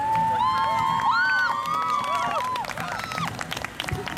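Outdoor lawn concert crowd applauding and cheering to welcome a guitar club, with clapping mixed with excited whoops and high shouted voices that fade into scattered claps.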